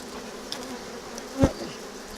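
Honeybees buzzing around an aggressive hive during hive work, a steady quiet hum with one close, louder pass of a bee sweeping by the listener partway through.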